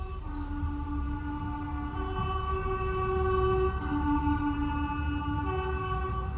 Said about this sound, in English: The first train I had to deal with was the 6:35 all stations to Derby